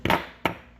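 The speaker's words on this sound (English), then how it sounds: "when you close the mold, you want to hear it snap." A fishing jig mold being pressed shut, giving two sharp close snaps about a third of a second apart, each a quick hard click that fades fast.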